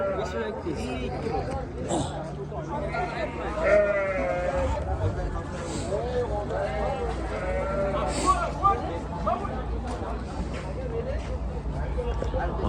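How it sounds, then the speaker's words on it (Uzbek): A flock of sheep bleating at a busy livestock bazaar in Kattakurgan, repeated overlapping bleats near and far over crowd chatter, vehicle hum and people talking close by. "Mana bir to'da qo'ylarni olib chiqib kelyapti."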